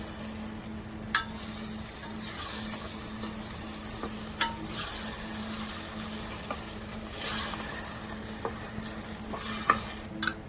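Raw mutton fries with green chillies in a pan, a steady, close sizzle under repeated scraping and clinking strokes of a spoon stirring the meat, with no speech over it.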